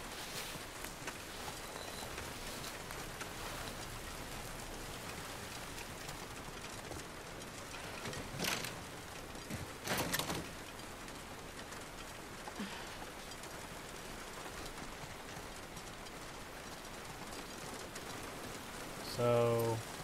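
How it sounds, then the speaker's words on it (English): Rain in The Last of Us Part II falls as a soft, steady patter on surfaces, quiet and continuous, with occasional footsteps and brief game sounds mixed in. "At least you've got out of the rain."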